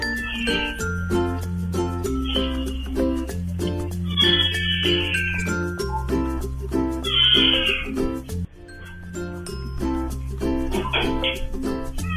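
A house cat up in the ceiling meows repeatedly, its cries rising at intervals over a steady, rhythmic background beat.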